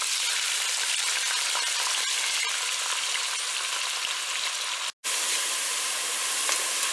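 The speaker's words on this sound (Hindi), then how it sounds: "अब हम ऑनियन फ्राई करेंगे।" Onions frying in hot oil in a pan, a steady close sizzle and crackle that runs throughout, with one brief drop to near silence midway.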